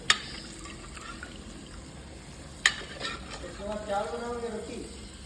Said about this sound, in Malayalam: ചിക്കൻ ചിക്കൻ ഇട്ട് ഇളക്കാൻ പോവാണ്